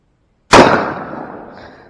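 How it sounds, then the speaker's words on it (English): A single sharp BB gun shot cracks out after a moment of silence, loud and close, with a short ringing decay. "as soon as you pull that trigger, it's going to go off"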